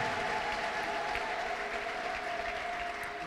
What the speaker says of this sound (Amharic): እስቲ ከዚህ በላይ አጨብጭቡ ለጌታ ክብር።